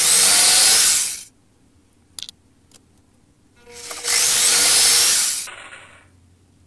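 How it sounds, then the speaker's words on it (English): A power saw cuts out small wooden plugs in two loud, close bursts of high whining buzz separated by a quiet gap with a few clicks and knocks. "use any kind of saw to cut out the pieces"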